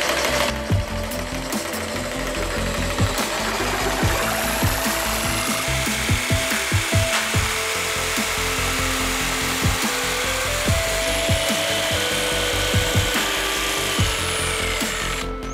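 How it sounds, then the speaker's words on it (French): Jigsaw cutting through wood to shape a homemade slingshot, its blade chattering in a fast, steady rasp that runs loud and close for the whole stretch, with short pauses and shifts in pitch as the cut turns. "Bon, là, la scie sauteuse. Et ben t'as plus qu'à découper."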